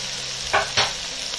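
Chicken gizzards frying in oil with onions, a steady sizzle with two brief spatula scrapes close by.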